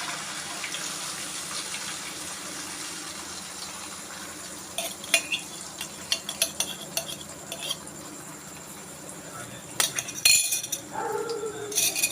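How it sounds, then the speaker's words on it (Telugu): Beaten eggs hit hot oil for fast-food-style egg fried rice, giving a steady hiss of frying with a run of light metal clinks and scrapes partway through, close and fairly loud. "నూనె వేడైందండి. ఇది బాగా చిట్టగొట్టుకున్న గుడ్లు వేస్తున్నాను."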